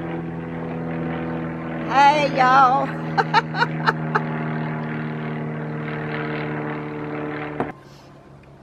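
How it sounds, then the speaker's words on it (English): A propeller airplane flying high overhead outdoors in Georgia gives a steady, distant droning hum throughout, while a person briefly speaks a greeting and a few short chirps sound nearby. "Oh, I hear an airplane."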